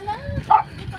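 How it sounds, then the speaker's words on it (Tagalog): A dog gives a short yip or bark amid a lively gathering, heard close alongside people talking and calling out in the same moment. "Kababait nga naman mga aso dito."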